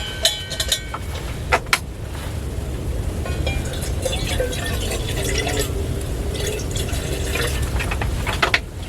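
Water poured into a pot for boiling coffee at a winter camp in a snowstorm with high winds, a continuous splashing fill with a few sharp clinks and knocks, close by, with no talking.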